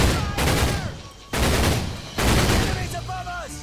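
Gunfire aimed up at a tower in Medal of Honor: Pacific Assault, three loud bursts of rapid automatic shots separated by short pauses, with a voice speaking over the last one.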